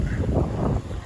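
Steady wind rushing and buffeting across the microphone, a broad low roar that stays loud throughout and dips slightly near the end.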